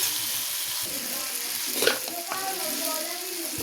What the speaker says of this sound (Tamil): எல்லாம் சேர்ந்து வதங்கட்டுமே பாருங்கள்.